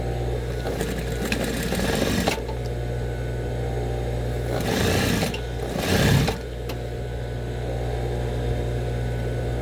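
A sewing machine runs steadily while stitching a baby dress, its motor humming continuously with brief surges in speed, close and fairly loud with no talking.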